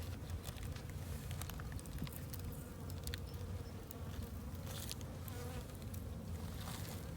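Honeybees buzz steadily at a beehive during a hive check, a dense continuous hum that stays close and even throughout with no talking over it.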